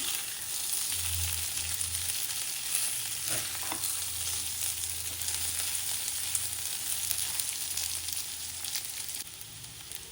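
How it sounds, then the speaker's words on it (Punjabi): Taro (arbi) pieces roast with masala in a pan, giving a loud, dense, continuous sizzle that fills the whole stretch, with an occasional faint scrape of stirring and no voices. "ਮਸਾਲੇ ਦੇ ਨਾਲ ਅਰਬੀ ਨੂੰ ਅਸੀਂ ਚੰਗੀ ਤਰ੍ਹਾਂ ਜਿਹੜਾ ਹੈ ਜੀ ਭੁੰਨ ਲਿਆ ਹੈ"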